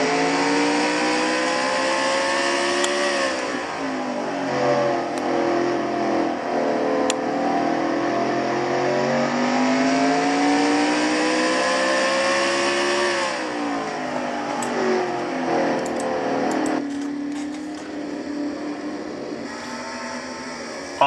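Race car engine in a sim racing oval race, screaming at high revs through a turn, dipping in pitch and climbing back up, loud and steady with no break.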